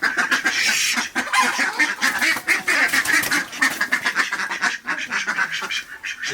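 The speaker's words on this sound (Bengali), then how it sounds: "এই হাঁসগুলো খুব ভালো" A flock of domestic ducks, bought at a weekly market, quacks loudly and continuously, with overlapping honking calls close by.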